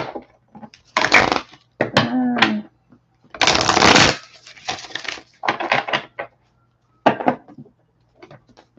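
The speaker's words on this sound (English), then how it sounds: "I know I've been shuffling for a hot minute." Tarot cards shuffled by hand in close, repeated bursts of riffling and slapping, separated by short pauses, with no talking.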